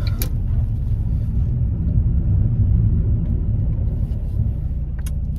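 Low steady rumble from inside a 2005 Ford Fiesta ST while driving, with engine and road noise droning evenly throughout and a few faint clicks near the start and end.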